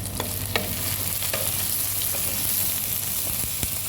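Curry leaves, dried red chillies and white seeds sizzle and crackle steadily in hot frying oil, close up, with occasional stirring clinks and no talk.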